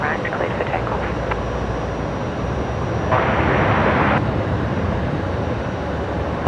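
A jet roars in a broad, steady rumble on runway 19 right at Brisbane Airport as it takes off at night, swelling briefly louder midway, with radio voices and talk heard over it.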